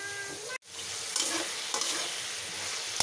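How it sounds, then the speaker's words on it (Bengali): Onion and tomato fry in a wok, a close, steady sizzling hiss broken by a brief cut near the start, then continuing evenly with faint stirring. "আর কড়াইতে বসে দিচ্ছি, পেঁয়াজ টমেটো ভাজা হচ্ছে।"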